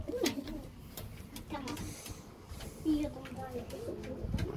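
A pigeon cooing in a backyard coop, soft low coos heard a few times at close range amid rustling and handling noises, with a voice and adult talk nearby.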